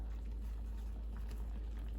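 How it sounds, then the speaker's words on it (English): A low, steady bubbling rumble of a pot of chiles boiling, faint and continuous, with soft irregular pops. "Our chiles are boiling."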